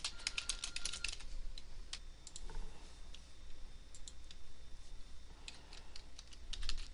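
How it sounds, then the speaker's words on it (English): Fingers type on a computer keyboard in a quiet room, quick bursts of close clicking with short pauses between them. "here we type in Club Manager"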